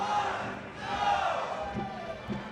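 Crowd at a Super Smash Bros. Melee tournament crew battle, a steady roar of cheering and shouting that swells midway, with a commentator's voice faintly mixed in.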